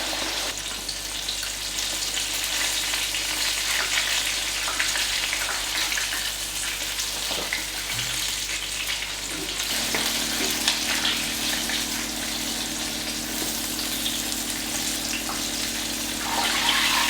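Chicken fries in a pan with a steady, dense sizzle and crackle that fills the whole stretch, joined midway by a low constant hum; no voices.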